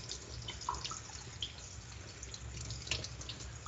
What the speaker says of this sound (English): I'm gonna go ahead and give my pasta a little rinse so that it's not sticky